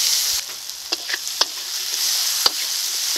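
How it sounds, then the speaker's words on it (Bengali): Chopped onion fries in hot oil with bay leaves, whole cumin and whole garam masala, giving a steady close sizzle broken by a few sharp clicks of stirring. "পেঁয়াজটাকে এখন লাল লাল করে ভেজে নেব"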